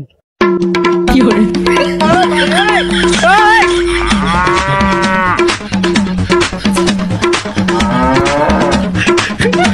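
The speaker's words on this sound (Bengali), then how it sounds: "খালি একবার এই গরুটা দেখেন।" A large Australian-breed cow at an Eid sacrifice market moos loudly and repeatedly up close, long drawn-out calls overlapping amid a noisy, crowded background.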